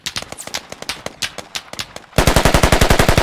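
Gunfire in the video game Squad: a run of spaced single shots gives way to a rapid, loud burst of automatic fire with evenly spaced cracks, close and alone without talk.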